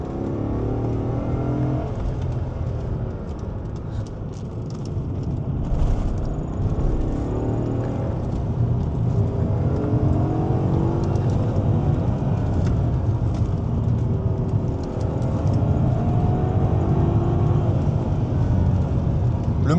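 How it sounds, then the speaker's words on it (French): A BMW E34 540i V8 pulls hard under acceleration, a continuous deep engine drone with rising harmonics that swell steadily over about twenty seconds, close and fairly loud with road rumble beneath. "lorsqu'on arrive à 3500, là, il y a une explosion de couple qui fait que la voiture va vite"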